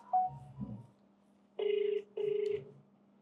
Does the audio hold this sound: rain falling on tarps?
no